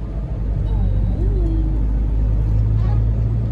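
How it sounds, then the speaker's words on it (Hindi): Engines idle and rumble low through a traffic jam of trucks and cars on a steep mountain valley road, heard close from inside a vehicle with faint talk over it. "ये देखो ट्रैफिक जाम है घाटी के अंदर।"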